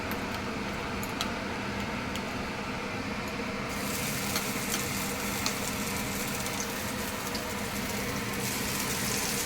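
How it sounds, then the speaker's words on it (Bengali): Giant taro (mankochu) paste frying in hot oil with black cumin in a wok, giving a steady, dense sizzle that holds throughout and grows brighter partway through. "এখানে কচু বাটাগুলো পুরোটা দিয়ে দিয়েছি, দিয়ে এখন ভালো করে ভেজে নেব"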